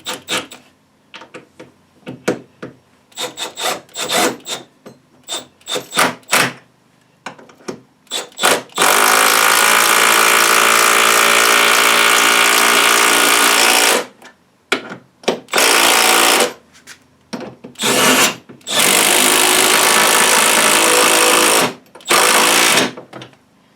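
A power driver drives leg screws through pilot holes into a bench vise base, with long sustained whirring runs among bursts of short clicks and taps.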